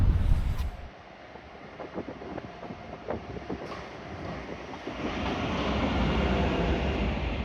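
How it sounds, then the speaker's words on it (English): A Swedish passenger train approaches a station, its rumble and rail noise starting faint and building into a steady, louder roll toward the end, with a few clanks along the way. "And here the train comes"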